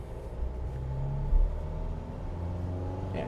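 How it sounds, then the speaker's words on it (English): A Toyota HiLux or JAC T9 pickup truck climbs hilly terrain under throttle, its engine a steady low rumble with a slight swell partway through, close and continuous with no talk. "It's accelerating really nicely."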